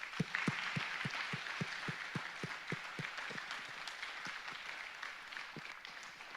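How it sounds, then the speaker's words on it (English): A crowd applauds steadily, a dense wash of clapping with a few sharp, distinct claps standing out, gradually tapering off. "how about we give them a nice round of applause."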